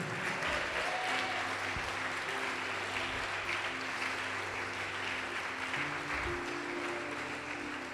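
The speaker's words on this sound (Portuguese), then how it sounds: "Pode aplaudir," Congregation in a church service applauding steadily for the full stretch, a dense sustained wash of clapping with a low hum and faint voices underneath.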